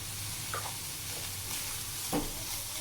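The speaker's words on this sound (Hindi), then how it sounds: "हल्का सा हमने इसको मिक्स करते रहना है, भूनते रहना है" A spiced chicken mixture with crushed red chilli, ground black pepper and salt is stirred and roasted in a pan: a few soft scraping spoon strokes over a low, steady sizzle, close by and without talk.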